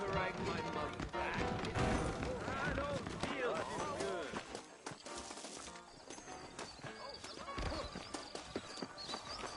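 Saddled horses in a western video game clip-clop over the ground in a busy run of hoof beats, with an occasional whinny, while voices talk over them.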